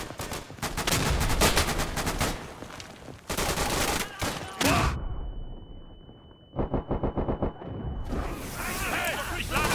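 Dense battlefield gunfire from the WWII shooter Day of Infamy, with rapid bursts and volleys crowding together loudly, a short lull with a steady tone and then a quick string of shots, and a voice speaking among the shooting.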